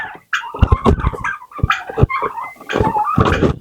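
Turkeys gobble and call in repeated loud, close bursts while waiting to be fed, a busy burbling chorus with short pauses between calls.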